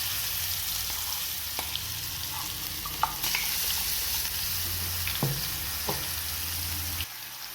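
A green chili and coriander spice paste sizzles and crackles steadily in hot oil with cumin and mustard seeds, with occasional stirring clinks and scrapes in the pan close by.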